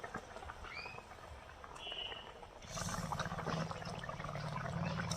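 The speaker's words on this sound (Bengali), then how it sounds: "এবার মাছগুলোকে দিয়ে দেবো।" Pieces of fish drop into a boiling mustard curry broth over a wood fire, starting with faint scattered clinks and a bubbling simmer, then turning into a louder, steady sizzling bubble for the last couple of seconds.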